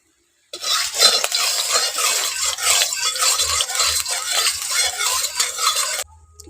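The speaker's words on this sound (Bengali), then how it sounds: "এখন ডিমটা ভেজে নেব" Fish roe frying in hot oil in a wok, with a loud close sizzle and frequent metallic stirring scrapes throughout, stopping abruptly at the end.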